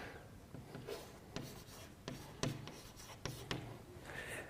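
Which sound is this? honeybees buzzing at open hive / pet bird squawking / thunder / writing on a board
writing on a board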